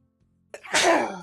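A single loud, close sneeze erupts after a quiet stretch, a sharp intake burst followed by a broad, breathy spray that trails off, set in an online game livestream.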